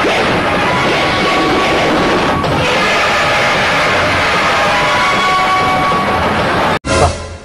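A train in a film scene rumbles loudly and steadily for nearly seven seconds, a dense broadband roar with faint rhythmic rail clatter, then breaks off abruptly and gives way to a short, harsher burst of noise.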